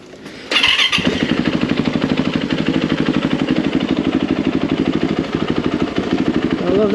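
A Yamaha YZ450 dirt bike fires up on its electric starter, then settles into a loud, close, rapidly pulsing idle that runs evenly to the end, with no talking.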